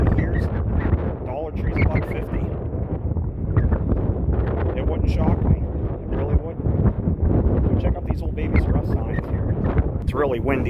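Wind buffets a microphone outdoors at an abandoned Babies R Us shopping center in North Olmsted, Ohio, a steady close rumble lasting throughout, with muffled voice-like sounds mixed into the gusts.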